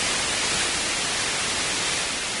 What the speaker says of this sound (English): so this is white noise.